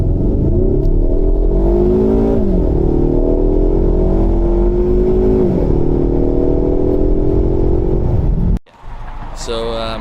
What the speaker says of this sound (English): 0 naar 100 testje.